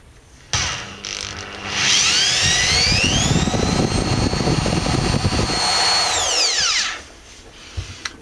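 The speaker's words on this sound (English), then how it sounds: "I've drilled all the holes I'm going to" A power drill bores holes into wood for a cake stand. Its loud, close whine rises in pitch, holds steady for about five seconds, then winds down, with no talking.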